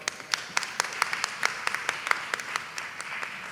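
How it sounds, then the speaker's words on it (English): A Class of 2021 commencement audience claps, a sparse, fairly quiet spatter of individual hand claps with distinct sharp strikes scattered over a soft background of applause. "Can we get an applause for that?"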